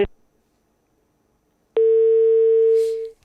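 Telephone line tones after a broken radio phone link: a brief click and tone, a long silence, then a loud steady single-pitch tone lasting over a second before cutting off.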